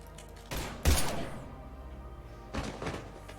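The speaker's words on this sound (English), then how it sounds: "Now open fire!" Gunfire in the sci-fi shooter Mass Effect 3 comes as a few heavy, booming bursts of shots, with a loud blast near the start and another cluster later, set over quiet ambient background.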